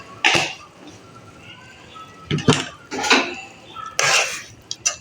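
A spoon stirring garlic ginger paste in a metal cooking pot for lauki gosht gives a few brief scraping clinks at intervals, close by, with faint kitchen background between them.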